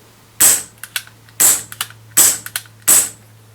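Four sharp cap pops from a toy cap gun revolver, evenly spaced about a second apart, each followed by faint mechanical clicks of the hammer and cylinder, close and fairly loud with a low steady hum underneath.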